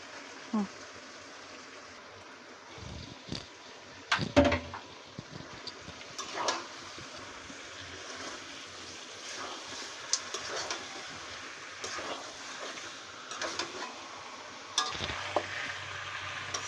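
Beef pieces dropped into hot spiced oil in a pot, with soft sizzling, intermittent thuds and scraping stirs, fairly quiet and close, with faint talk underneath.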